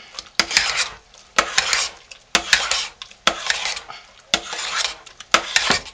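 Homemade lye soap mixture with turmeric being stirred in a pot, rhythmic scraping strokes about once a second, each a close rasping swish with clicks of the utensil against the side, no voices.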